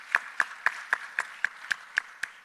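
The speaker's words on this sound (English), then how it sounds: "A round of applause for Mr. Raul Cunningham." Audience applause at a panel event, heard as eight sharp, evenly spaced claps about a quarter second apart, fairly faint and with no other sound.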